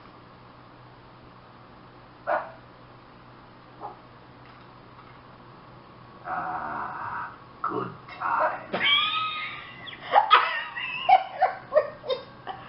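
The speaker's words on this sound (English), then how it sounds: "my dog is barking again" A dog barks and yips in a run of short bursts, fairly close, after a few scattered sounds; a person speaks briefly at the start.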